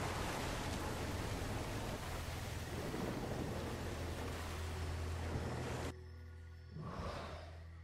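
A steady roar of rushing water from a waterfall in the video game Darksiders pours on for about six seconds, then drops to a softer, thinner wash with a brief swell near the end.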